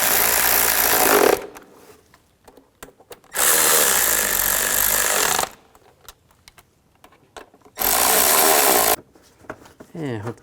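Three loud, sustained bursts of a power tool or driver running bolts down on a 2003-08 Nissan Maxima during a spark plug job, each lasting one to two seconds, separated by quieter clicks and handling noises.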